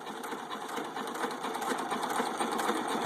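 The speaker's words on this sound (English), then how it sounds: "I had to advance the timing quite a bit to get it to run pretty decent" A 1917 United 2.5 hp hit-and-miss stationary engine runs with its timing advanced, making a fast, even mechanical clatter that is close and moderately loud, with no voices over it.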